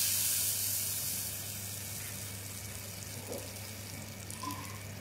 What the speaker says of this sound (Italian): io inizio a cuocere e a tostare il riso